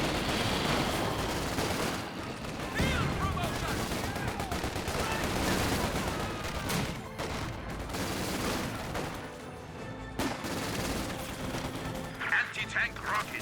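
Gunfire from units in a Company of Heroes 2 battle, dense bursts of shots and impacts under continuous excited commentary.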